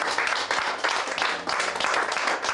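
A church congregation claps and applauds together in a dense, continuous wash of hand claps at moderate level, no voices standing out above it.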